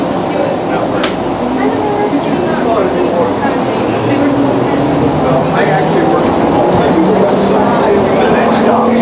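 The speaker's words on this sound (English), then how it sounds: "This train is departing." A passenger train pulls away, heard from inside as a loud, steady rumble and whir with air-conditioning hiss, overlaid by an automated announcement voice speaking.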